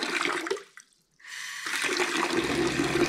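Water gushes steadily from a travel trailer faucet fed through an accumulator tank, a close, loud, even flow that cuts out briefly and then resumes smooth and unbroken without pulsing.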